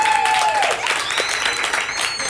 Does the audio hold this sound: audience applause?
yes